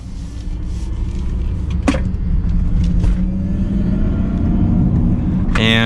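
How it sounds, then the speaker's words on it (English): A 2022 Mercedes-Benz EQS 450+ electric sedan accelerates hard, its rising electric-motor whine climbing steadily over constant road and tyre rumble, with a brief clunk partway through. "we'll give it one less acceleration for today's video"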